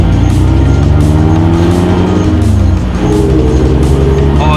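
A 2016 Mazda MX-5 with a 2.0 engine drones loudly and continuously while driving on a road, its engine note rising and falling through gear changes, heard from inside the car with no talking.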